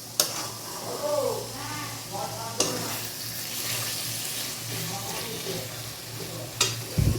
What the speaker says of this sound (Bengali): তো চলো চিকেনটা মশলাটা একটু কষানো হোক